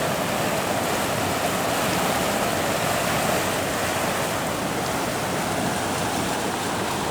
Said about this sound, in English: The water's still pretty high. Flowing fast.